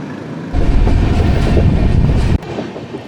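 The Howrah-Ahmedabad Express thunders past at close range near Bharuch, a loud rush of wheels and rumbling carriages that cuts off abruptly, leaving a quieter background.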